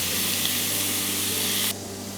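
Steady loud sizzle of chicken frying in a pan for oyakodon, continuous bright hiss that abruptly drops to a quieter simmer near the end.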